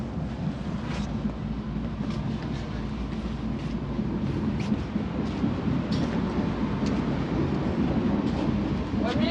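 A long passenger train rolls along the rails in India, a steady low rumble with faint rhythmic clicks and wind noise throughout, no speech.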